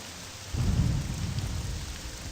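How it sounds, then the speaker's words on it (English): Thunder rolls in over steady rain in a Morrowind game scene, a low rumble swelling after a brief lull and lingering beneath the constant hiss of rainfall, fairly loud and with no voices. "I've got a thunderstorm rolling in."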